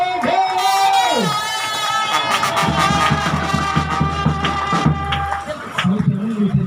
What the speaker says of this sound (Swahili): Shangwe na vigelegele.